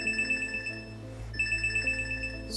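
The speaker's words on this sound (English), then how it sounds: "So that just sent out a health notification." A repeating electronic alert tone from a thought-controlled device sending a health notification, a steady beeping pattern that pauses briefly midway and then resumes, clear and close over a low hum.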